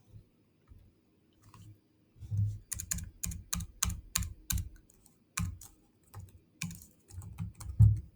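Rapid clicking of computer keyboard keys in irregular bursts, close and fairly quiet, with short pauses between runs and no talking.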